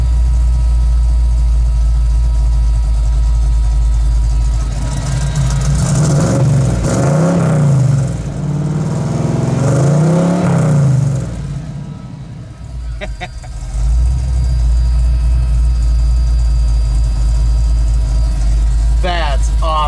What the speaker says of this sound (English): It's running a lot better with the exhaust now.